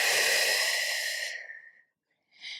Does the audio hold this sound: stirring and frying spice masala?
no